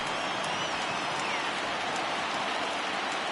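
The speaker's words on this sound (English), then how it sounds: "the conditions aren't ideal with the rain coming down" Steady, dense hiss of rain pouring down over a baseball game in MLB The Show, a continuous wash of falling drops that stays even and fairly loud from start to finish with no voices.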